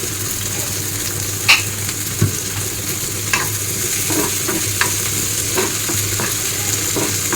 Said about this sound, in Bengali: চিংড়ি মাছটা লবণ দিয়ে সরিষার তেল দিয়ে ভেজে নিচ্ছি।